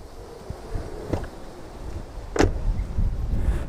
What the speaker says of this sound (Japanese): 重くなったのでドアの閉まり具合がね全然違います